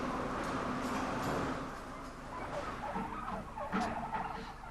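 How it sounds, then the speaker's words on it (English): A flock of farm turkeys raised for the table gobble in several short, rattling bursts over a busy background murmur, the calls overlapping at moderate distance. "we couldn't complete a programme on poultry without looking at the turkey, a traditional bird for the table"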